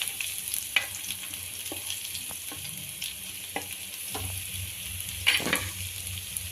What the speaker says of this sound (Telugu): మనం స్టవ్ని హైలోనే ఉంచుకొనేసి ఒక 2 నిమిషాల పాటు మనం ఇది ఇలా ఫ్రై చేసుకున్నాం.